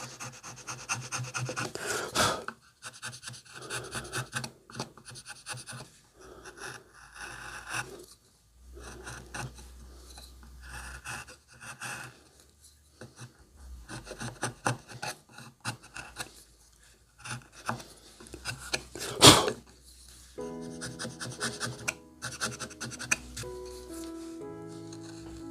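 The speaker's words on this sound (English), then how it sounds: "you can make these lines with this chisel. Just use the tip of the chisel." A wood carving chisel cuts fine lines around a carved face's eyes, making soft repeated scraping and rubbing strokes at close range, with a sharp knock partway through and quiet handling between passes.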